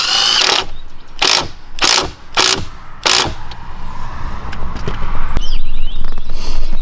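A ratchet or power driver tightening bolts while a Bestop Sunrider is fitted to a Jeep JL, giving five loud, evenly spaced bursts close by, followed by lighter mechanical clicks and handling noise.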